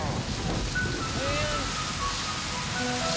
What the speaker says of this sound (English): Beer is falling from the sky. It's raining beer.